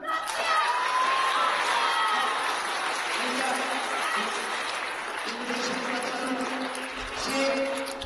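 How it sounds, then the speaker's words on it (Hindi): Students at a college magic show clap loudly as a broad crowd sound, with cheering voices and talk layered over the applause throughout. "जोर से तालियां।"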